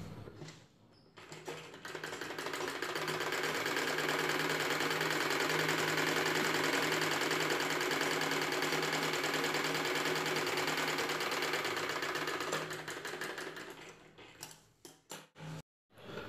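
A sewing machine stitches the top seam of umbrella canopy fabric, a steady, loud whirring run lasting about twelve seconds before slowing into a few short bursts and stops.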